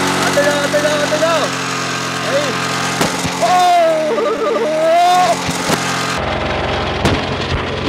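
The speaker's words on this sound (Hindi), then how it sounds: "कैसी आवाज हो गई बुलेट की" A Bullet motorcycle engine revs up and down with a rough, throbbing drone, rising in pitch then falling, loud and close.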